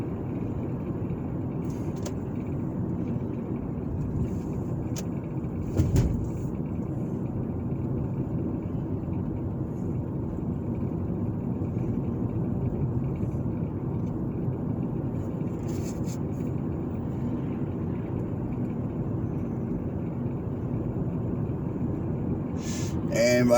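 A car driving down the main business strip of Tallassee, Alabama: a steady low road rumble inside the vehicle, with a few brief knocks and passing noises and no talk.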